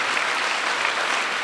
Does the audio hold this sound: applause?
yes